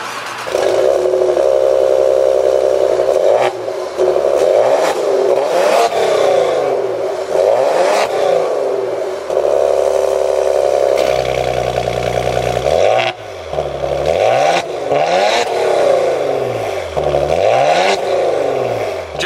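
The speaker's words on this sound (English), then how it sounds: "So with my foot on the brake, we'll go ahead and start it up." A 2019 Maserati Ghibli SQ4 engine cranks and fires up close by, then revs repeatedly in loud rising and falling surges, with brief dips back to idle between blips, no talking over it.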